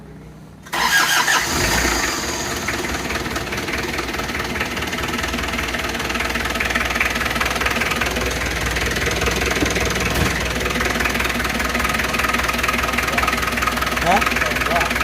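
An Isuzu Panther 2.3 diesel engine cranks briefly, fires up and settles into a loud, steady rough idle with a knocking clatter that continues to the end.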